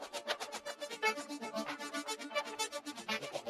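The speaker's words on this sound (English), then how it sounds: "the main layer for this part is just this ARP layer" Quiet synth arpeggio layer in a dark atmospheric track: a fast, steady stream of bright plucked notes pulsing several times a second, playing alone.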